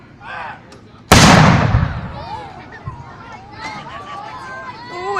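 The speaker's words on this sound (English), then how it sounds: "So if you're ready, number one gun," A 25 pounder field gun fires once at an outdoor display in a park, a sudden loud boom with a long rumbling decay, while people talk and react in the background.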